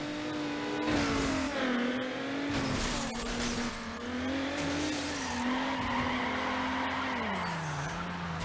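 In Need for Speed Underground, a car's engine whines and revs steadily as its tires squeal through a long skid, the pitch rising and falling with the slide and no talk over it.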